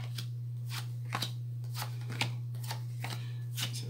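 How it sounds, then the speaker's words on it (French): A deck of tarot cards is shuffled up close in repeated crisp riffling bursts over a steady low electrical hum, with no voices. "Je vais tirer quelques cartes"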